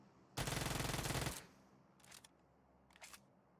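A loud burst of rapid automatic gunfire from PUBG Mobile rattles off for about a second, followed by two fainter, shorter bursts further away.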